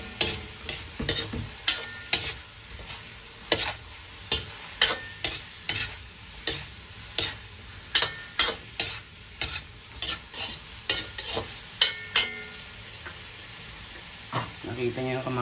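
Vegetables for pinakbet, including onion and tomato, being sautéed in a pan, with rhythmic, sharp scraping and clanking stirring strokes over a soft background sizzle, close and regular, with brief talk in places.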